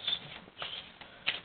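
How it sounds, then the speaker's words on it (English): A deck of playing cards being shuffled during a card trick, the close, crisp riffle of cards sounding in quick bursts of fluttery slaps over about a second and a half, with no talking. "shuffle up the deck."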